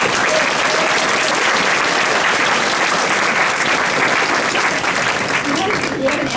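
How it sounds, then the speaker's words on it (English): Sustained, loud crowd applause at an outdoor protest gathering, a dense wash of many hands clapping continuously with faint voices mixed in. "Can we give him a big applause?"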